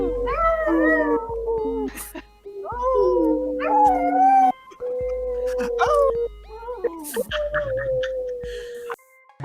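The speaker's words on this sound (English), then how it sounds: "He's the Chihuahua on the old school Taco Bell commercials, and he howls for tacos all the time." A Chihuahua howls loudly and close by in long, wavering rising and falling cries. Several howls in a row are broken by short pauses, with yips and whimpers mixed in.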